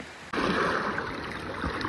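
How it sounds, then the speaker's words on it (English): Strong surf pounds the shore at a St. Lucia resort, a loud, dense wash of rushing water and wind that swells in abruptly and roars on without pause. "The waves are pretty bad today."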